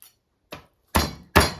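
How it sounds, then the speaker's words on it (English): A garlic clove is smashed to crack off its papery skin: three sharp, close thumps on a hard surface, the last two loudest, with short silences between. "I thought I would actually break open the clove and smash it"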